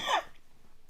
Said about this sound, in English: sorry I'm coughing over them